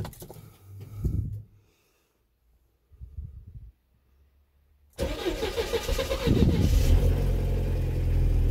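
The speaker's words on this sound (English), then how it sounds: "So what I'll do now is I'll start it up and I'll show you it all working." A Mercedes SLK R170 with a supercharged Eaton M62 engine fitted with a performance pulley starts up after a few quiet clicks and cranks, then catches into a loud, steady idle with a rising rev, close by and without talk.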